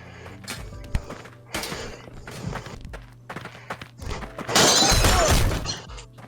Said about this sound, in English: I broke a glass just playing virtual reality because I forgot to be aware of my play space.